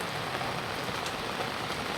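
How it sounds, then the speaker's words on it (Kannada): Steady monsoon rain falls on a surface during wedding cooking, a dense even patter that holds at a constant level throughout with no voices. "ಹಾಗೂ ನಮಗೆ ಕಾಡುತ್ತಿರುವ ಮಳಿ"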